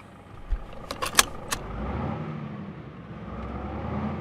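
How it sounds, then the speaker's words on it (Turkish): A DAF XF Euro 6 truck in Euro Truck Simulator 2 with a sound mod: a few sharp key-like clicks, then the engine cranks and settles into a low, steady diesel idle rumble. "Şöyle direksiyonu kendime doğru çekeyim ve marş yapalım."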